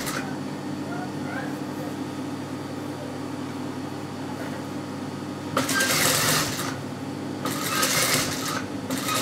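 A sewing machine stitches around fabric edging in a steady, close, continuous whir, with two louder bursts of faster stitching near the end; no voices.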